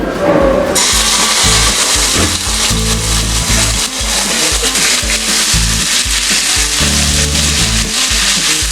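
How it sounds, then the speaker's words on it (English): Ginger garlic paste hits heated oil with a loud, steady sizzle that continues unbroken throughout, close and bright. "So I'm going to add this ginger garlic paste to the heated oil."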